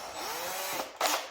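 A power drill with a spade bit bores into a wooden furniture leg, giving a brief steady whirring grind that ends in a short louder burst, close and alone.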